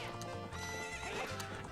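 Epona the horse in Ocarina of Time neighs in a long whinny over steady galloping clip-clops and game music.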